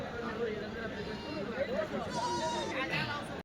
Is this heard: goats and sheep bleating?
yes